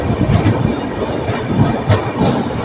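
The 12343 Darjeeling Mail, running from Sealdah to NJP, rumbles loudly on the rails, heard from inside a general coach as a steady roar with rhythmic wheel clatter and no talk.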